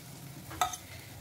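Eggplant frying in oil is stirred, giving a faint, steady sizzle with one brief scrape of a utensil in the pot.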